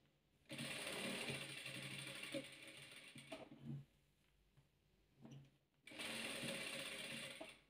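A sewing machine stitching around the fabric lining half a centimetre from the edge, fast mechanical rattling runs of stitching broken by pauses, close and fairly quiet.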